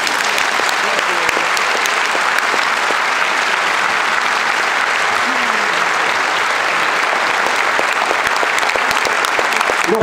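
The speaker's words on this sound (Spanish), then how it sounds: "les pido un fuerte aplauso" Loud, sustained applause from a large audience at a Cuba solidarity gathering, steady and dense for the full stretch, with a hint of voices mixed into the crowd noise.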